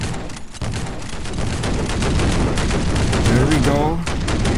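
Shotgun fire in the mobile shooter Guns of Boom, dense repeated blasts and battle noise filling the whole span, loud and close, with someone talking over the shooting.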